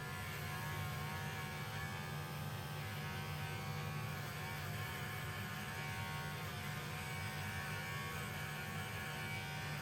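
A small handheld facial blow dryer running on a low setting, giving a steady, unbroken motorized whir and hum that stays level and close for the whole stretch, with no voices.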